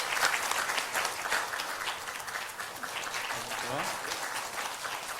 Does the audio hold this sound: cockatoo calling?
no